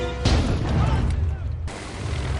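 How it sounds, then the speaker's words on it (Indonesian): A bomb strapped to a terrorist's back explodes at an airport in a James Bond film: a sudden loud blast booms in, rumbles on heavily, then cuts abruptly to another dense burst of noise. "ledakan pun terjadi bersama dengan teroris tersebut"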